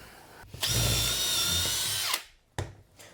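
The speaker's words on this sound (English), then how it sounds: "so we're going to drill that" A power drill whirs loudly for about a second and a half, spins down, then gives a brief second burst.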